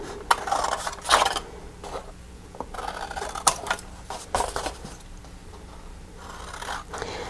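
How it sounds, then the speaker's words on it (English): Scissors snip through gift card box paper, trimming off all four corners of a Christmas pinecone box; a series of short, crisp cuts and paper rustles come close by in irregular bursts, with no talk. "scissors, and I'm going to cut off what I need cut off."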